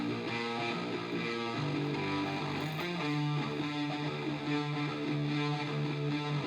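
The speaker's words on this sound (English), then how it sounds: "this song is actually recorded in drop A tuning on a baritone guitar" A heavily distorted baritone guitar in drop A tuning chugs and rings through a riff, thick and sustained, with no voices.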